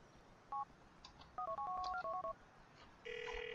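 Phone keypad tones dialing a number in the video game GTA IV: one short beep, then a quick run of about eight touch-tone presses in steady rhythm, followed by a ringback tone starting at the end.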